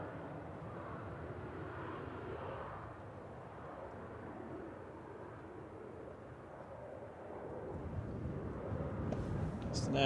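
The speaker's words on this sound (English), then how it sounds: "Eastern Airways seems to be using a lot of the runway for some reason." An Eastern Airways airplane on the runway at Manchester Airport gives a broad, distant engine roar that holds steady and swells slightly toward the end, with wind-like rumble throughout.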